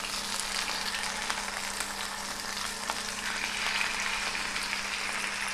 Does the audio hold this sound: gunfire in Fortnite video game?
no